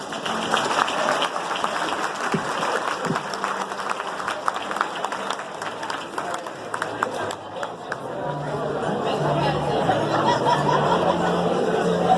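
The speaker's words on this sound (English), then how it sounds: "Let's welcome him with a warm round of applause." A warm round of applause welcomes a speaker at a teen suicide prevention event. Steady crowd clapping with some chuckling runs for most of the stretch, then fades into room noise and a low hum near the end.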